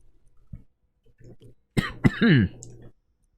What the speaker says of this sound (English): I do apologize if I'm coughing